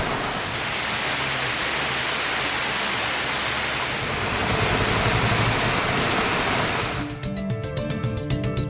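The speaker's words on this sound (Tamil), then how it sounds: "மாலை முதல் பரவலாக மழை பெய்தது." Heavy rain pours steadily during an evening downpour in Tamil Nadu, a dense, loud, continuous hiss that eases abruptly near the end into a thinner patter.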